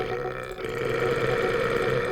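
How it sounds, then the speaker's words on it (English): A video game burping sound effect plays as one long, loud, rumbling belch lasting about two seconds, alone with no talking. "you can just keep clicking this thing and it'll keep burping"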